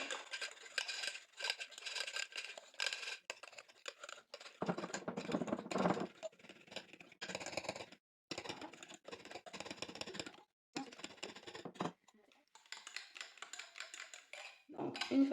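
Bowl scraping and clinking as crushed biscuits with lemon zest and juice are stirred for a lemon tiramisu, a close run of irregular tapping and scraping bursts with short pauses.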